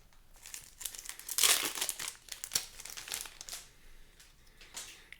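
The foil wrapper of a Magic: The Gathering Commander Masters booster pack crinkles and tears open close up in a series of sharp, papery rustles that peak midway, then fade to quieter handling.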